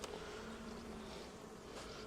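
Honeybees buzz on a hive frame in a dense, continuous drone, softly heard with no voices.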